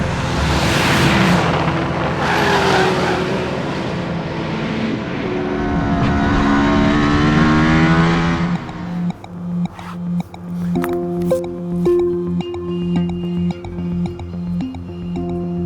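A Mercedes-AMG ONE, a street-legal car with an F1 powertrain, drives with a loud, high-revving roar that climbs and falls, then breaks into a series of short, sharp blips and revs.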